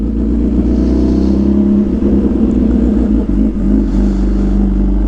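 A hyper naked motorcycle's engine drones loudly and steadily while it is ridden, a deep, close rumble with sustained low harmonics and slight swells in pitch, no speech.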